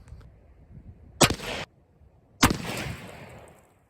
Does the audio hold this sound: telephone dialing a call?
no